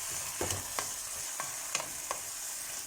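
Minced meat being browned in a pan for stuffed eggplant gives a steady close sizzle, with about five rhythmic stirring scrapes cutting through it.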